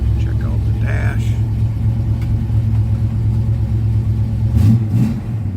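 A 1969 Pontiac Firebird convertible idles with a deep, steady rumble close by. A brief swell in engine noise comes near the end, and a voice speaks briefly over it early on.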